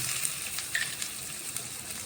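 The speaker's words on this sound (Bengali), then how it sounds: "তেলটা গরম হয়ে গেলে হিং দিয়ে দিলাম" Asafoetida dropped into hot oil for a tomato chutney with sweet potato sizzles and crackles steadily, a close, even frying hiss with a few small pops.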